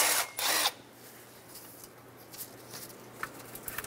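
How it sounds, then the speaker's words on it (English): A power tool buzzes briefly on a 10mm bolt holding a wiring harness bracket on a 2000-2006 Toyota Tundra engine, a short close burst followed by faint handling noises. "Remove the 10mm bolt for this harness bracket."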